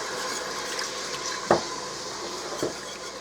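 Chicken broth pours into a soup pot for a loaded baked potato soup, making a steady, soft splashing stream with a couple of brief louder sloshes.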